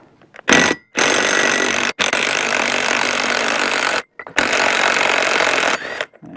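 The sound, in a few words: socket wrench removing NP231 front yoke nut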